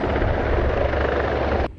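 A helicopter flying near an aviation plant, a loud, steady thudding rotor drone that cuts off abruptly near the end.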